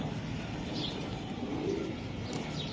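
Racing pigeons coo softly while being handled and shown at close range, a low murmuring burble under faint background noise.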